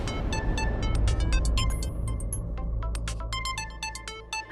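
A mobile phone plays a bright, repeating melodic ringtone for an incoming call, a quick run of chiming notes that continues steadily throughout, heard up close.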